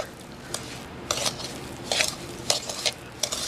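Morning glory muffin batter being stirred in a mixing bowl, with a soft continuous scraping swish and several louder clinks and knocks of the utensil against the bowl, close and alone.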